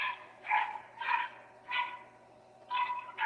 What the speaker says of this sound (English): What you got going on there? Dogs,